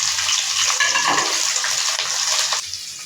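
Chili and capsicum fry lightly in a pan with onion, a soft, steady sizzle and crackle with occasional stirring scrapes, close and moderately quiet with no voices.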